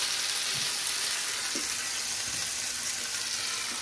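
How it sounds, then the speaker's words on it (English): Steady sizzling of beetroot in butter in a hot pan, a bright continuous hiss with a few soft thumps of stirring underneath. "Love that sizzle."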